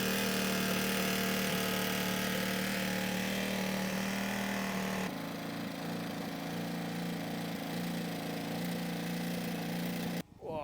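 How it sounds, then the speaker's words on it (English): A Ducati Hypermotard 698 fitted with a titanium exhaust idles in a steady, even single-cylinder burble, loud and close, with a brief shift in tone midway and no voices over it. "It's only been running for a few minutes, just idling."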